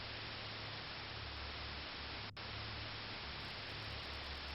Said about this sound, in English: The television screen is filled with white noise again.